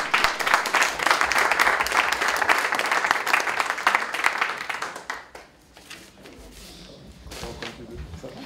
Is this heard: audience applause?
yes